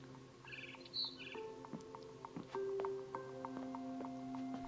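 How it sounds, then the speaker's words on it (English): Faint, scattered chirps and tweets of a barn swallow in the video game What Remains of Edith Finch, over a low background hum, with a few short clicks and tonal beeps mixed in. "Then I heard chirping outside my window."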